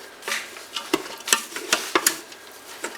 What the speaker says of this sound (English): we're going to give it a good stir.